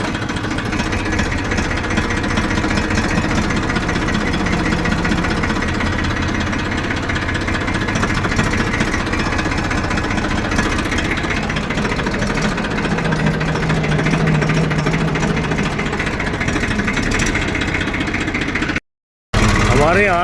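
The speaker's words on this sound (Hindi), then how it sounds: "चलते हैं ट्रैक्टर लेके।" A farm tractor engine runs steadily and close for the whole stretch, a loud, continuous rumbling drone with a knocking vibration, heard in a rural field during sugarcane planting.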